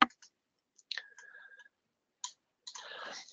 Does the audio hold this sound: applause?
no